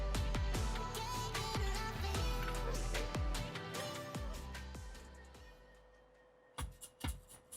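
A song with strong bass and punchy beats plays through newly installed Infinity speakers in a Mercedes-Benz E200, loud and steady throughout before a brief drop and a few final hits.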